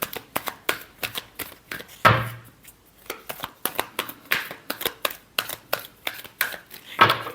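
Tarot cards are shuffled rapidly in a quick rhythmic run of crisp riffling bursts, close and loud, with a couple of longer bridging riffles and no talking.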